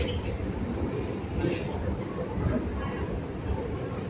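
Busy underground MRT subway station ambience on a Saturday: a low rumbling hum with indistinct crowd murmur and scattered distant voices, continuous and moderately quiet.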